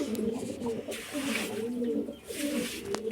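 Pigeons in a loft, close and soft, giving repeated low rolling coos that overlap in a steady, murmuring rhythm, with someone talking quietly at times.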